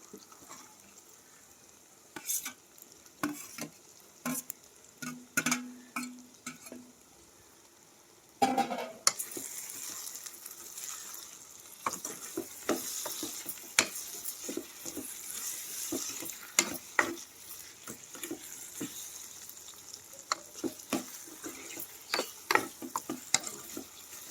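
Onions, green chilies and tomatoes fry in a pan on a home stove, a steady sizzle with repeated clinks and scrapes of stirring, quieter at first and then louder and denser once the tomatoes go in.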